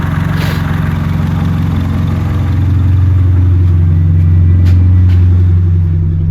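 A turbocharged D16 engine in an EJ8 Honda Civic idles at operating temperature, a loud, steady low drone with a faint rise in level partway through and no voices.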